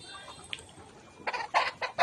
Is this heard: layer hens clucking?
yes